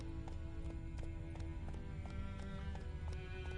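Geralt's horse Roach gallops in The Witcher 3 with a steady, rhythmic clip-clop of hooves, quiet against a constant droning background of game music and ambience.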